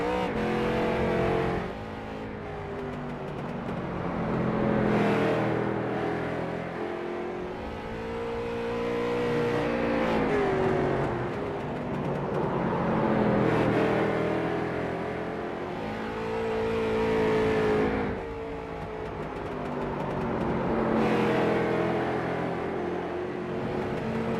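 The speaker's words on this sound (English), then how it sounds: "Looks like the 44 is going to be the next car out onto the racetrack." Street stock race car lapping South Boston Speedway in the iRacing sim, engine droning loud and steady with rising and falling revs as it accelerates and lifts through each turn, repeating in a regular lap rhythm.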